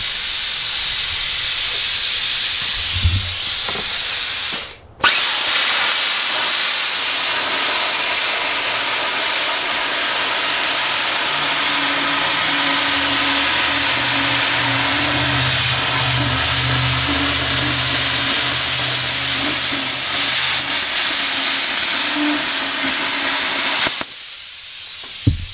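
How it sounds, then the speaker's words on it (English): A plasma cutter slices sheet metal for a trunk delete with a loud, continuous hiss that runs unbroken for about twenty seconds, with a brief break early on and a stop near the end. "So let's get to cutting on the plasma."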